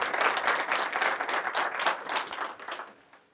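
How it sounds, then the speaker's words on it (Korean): An audience at a book talk show applauds as a guest author is introduced, a dense, lively burst of many hands clapping close and full for about three seconds, then fading out quickly. "박수."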